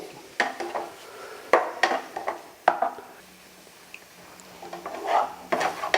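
Shrimp stir-fried in a dry pan over medium heat with no oil, for a Thai spicy salad; a utensil clacks and scrapes against the pan in irregular bursts, with a faint sizzle between strokes.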